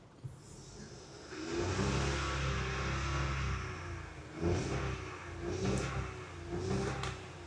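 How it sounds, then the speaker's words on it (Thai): A 1.0-litre three-cylinder turbo engine in a 2022 Honda City Hatchback idles, then revs up a few times in short rising bursts, steady and close, with no talking. "ผมขออนุญาตเร่งเครื่องหน่อยชมคำฟังเสียงเครื่องยนต์การสามสูบแถวเรียงหนึ่งพันเทอร์โบนะครับ"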